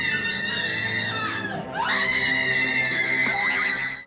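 Women screaming in terror inside an elevator during a prank, several high, shrill overlapping shrieks sustained and loud, with a brief dip before rising again.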